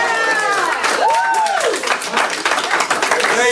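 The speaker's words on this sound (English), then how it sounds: "the Salter family clapped with joy as Lang was sentenced" A family clapping with joy in a courtroom as a defendant is sentenced, steady applause across the whole moment with voices and whistle-like cries rising over it.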